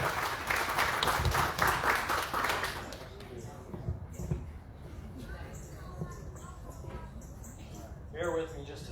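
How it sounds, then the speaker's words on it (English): An audience at a talk on athlete injury prevention bursts into loud clapping for the next speaker, which fades after about three seconds into rustling, handling noises and someone speaking. "Give him a hand of applause, please."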